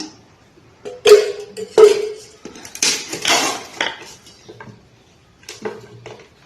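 A metal pot is set down among dishes, clanking and clattering in a series of sharp knocks, a couple of ringing hits, then lighter scrapes and taps nearby while making sarva pindi.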